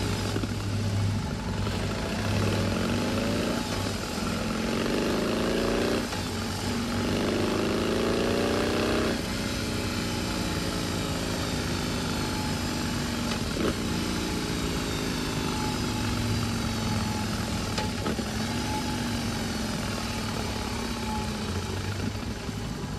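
A BMW R 18 B motorcycle's air- and oil-cooled four-stroke twin-cylinder engine running, with several rising revs and blips over a steady rumbling idle and no talk.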